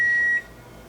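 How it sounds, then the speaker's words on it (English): A home dishwasher gives one steady, fairly loud electronic beep lasting under half a second, then cuts off, leaving faint room hum in a kitchen. "to ignore my dishwasher beeping at me"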